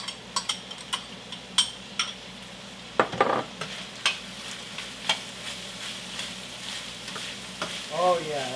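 Onions hit a pan of chipotle-seasoned ground beef and fry with a steady sizzle, while a utensil scrapes and taps the pan in irregular clicks; no talking.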